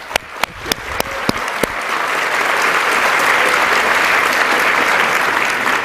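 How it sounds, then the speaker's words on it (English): A live audience at a SXSW fireside chat with AMD's CEO breaks into applause: a few sharp isolated claps at first, then swelling into a dense, sustained roar of clapping from a large crowd. "I'm glad that you all clap"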